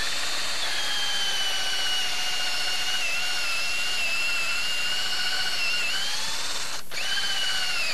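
A 1.5 inch hole saw on a power drill cuts into a log to form a round tenon, a steady loud whine with stacked tones for about eight seconds and a brief dip near the end.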